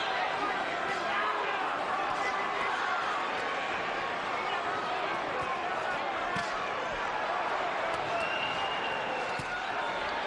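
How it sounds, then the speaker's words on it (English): A steady, dense crowd roar fills a boxing arena during the Micky Ward vs Arturo Gatti fight, swelling as the fans get back into it, with an announcer's commentary running over the noise throughout. "Crowd gets back into it."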